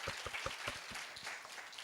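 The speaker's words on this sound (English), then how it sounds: "Okay, claps, friends." Applause from a group of teachers at a school faculty development program, a run of quick, fairly faint claps heard from some distance and lasting just under two seconds.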